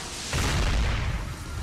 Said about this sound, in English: There was a little flash there with the explosion.